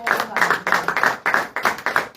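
A church congregation claps in a fast, steady rhythm to acclaim the Lord, with dense overlapping hand claps and some crowd voices mixed in.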